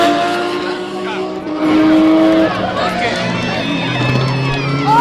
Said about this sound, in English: Right, there's the Zeely car